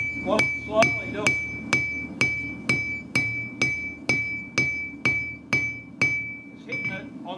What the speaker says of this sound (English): is hitting it on the slightly there on the horn.